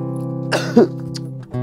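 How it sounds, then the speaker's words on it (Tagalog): A single harsh cough bursts out briefly over a steady, droning hum in the background. "Grabe ang ubo mo"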